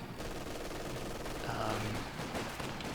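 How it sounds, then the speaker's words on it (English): Machine gun fire from an MG emplacement in Company of Heroes 2 rattles on as a dense, continuous burst of rapid gunshots with battlefield noise, loud and steady across the whole stretch. "Oof, taking a lot of damage there actually from this MG."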